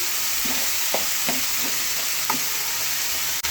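Chopped green chilli and garlic fry in a pan under a constant hiss, while a utensil stirs them in a few scraping strokes and one sharp click near the end, close and without talk.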